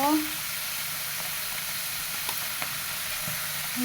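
Potatoes fry in a pan with a steady, even sizzle and hiss that runs throughout at moderate level, with a few faint stirring clinks.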